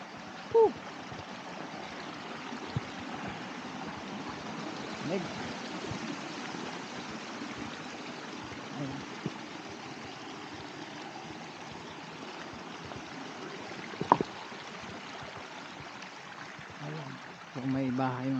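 Steady broadband rush of cold spring water flowing throughout, with a few brief knocks and clicks and some indistinct voices near the end.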